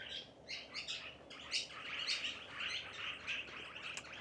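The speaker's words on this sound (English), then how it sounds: "about 30 birds have just gone and landed in my tree" A flock of about thirty birds that have just landed in a tree chirps and tweets continuously, a dense overlapping chatter of bright calls at moderate distance, with no talking.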